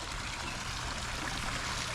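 Small garden waterfall trickling beside a potted juniper, a soft steady wash of running water, close and unbroken, with no voices.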